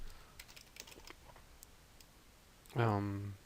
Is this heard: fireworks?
no